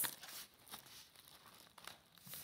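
Adhesive tape pulled and pressed onto cardboard from a cut box folded in half for a small house roof, a close rustling, crinkling stretch with brief tearing scrapes.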